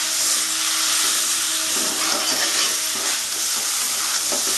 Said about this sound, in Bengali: এটা আমি খুব ভালো করে এখন কষবো।